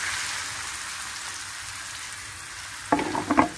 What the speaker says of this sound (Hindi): तो देखिए तड़का जो है वो बन चुका है